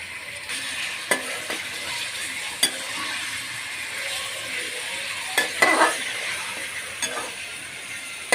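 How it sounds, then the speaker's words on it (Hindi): Chicken fries in oil in a karahi pan over fairly high heat, a soft steady sizzle broken by occasional sharp clinks and scrapes of a utensil against the pan, with no talking. "अब हम इसमें चिकन डालेंगे।"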